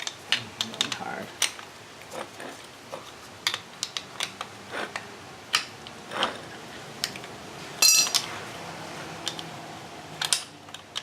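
17 mm socket wrench ratcheting on the windshield wiper linkage of a 2006 Honda Accord, heard as irregular close clicks and metallic taps mixed with small handling noises, with no talk.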